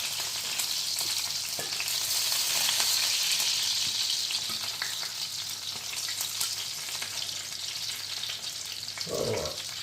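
Scotch eggs frying in a pan of hot oil, a dense continuous sizzle close by, with a spoon occasionally knocking as they are turned, a brief thump at the end.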